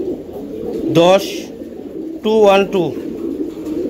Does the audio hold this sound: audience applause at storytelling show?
no